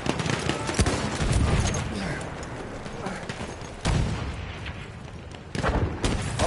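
Rapid bursts of machine gun fire in Battlefield 1 crackle through a dense wartime battlefield din, with booming impacts and several sharp loud onsets over continuous rumble, while someone talks over the action.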